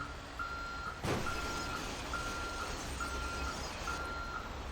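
Reversing alarm of a bus in GTA 5, steady evenly spaced beeps over a low engine rumble, with one brief louder thump partway through and no speech.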